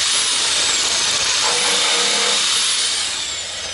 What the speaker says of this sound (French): je vais devoir lever légèrement, voilà, perforer avec le foret de 2 mm